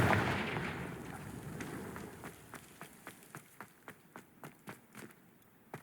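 Confringo spell blasts go off in Hogwarts Legacy, a series of sharp, evenly spaced bursts after an initial rumbling whoosh. The bursts come in a quickening rhythm and are loud and close, with no talk.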